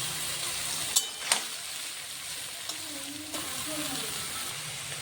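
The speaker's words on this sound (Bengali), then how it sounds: "আলুটা ভাজা হয়ে গেল। ওই তেলেই আমি কপিগুলো দিয়ে দিলাম।" Cabbage dropped into hot oil already used to fry potatoes gives a low, steady sizzle with a few sharp clicks and pops, close by and fairly quiet.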